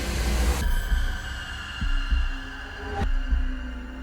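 Deep thundering heartbeat effect for a prehistoric survival scene, slow heavy throbbing pulses over a low sustained hum, alone with no voices.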